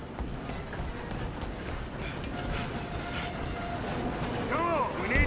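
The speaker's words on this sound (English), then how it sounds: "we need to stop this train" Moving train in the video game Red Dead Redemption 2, a steady rumbling rattle with clanking mechanical noise and a rising whine near the end, all under continuous game sound.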